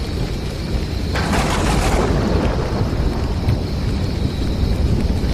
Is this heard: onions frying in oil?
no